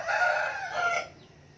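A fighting rooster (gamecock) kept at a home crows once, a loud harmonic call rising and falling over about a second, close by, then fades.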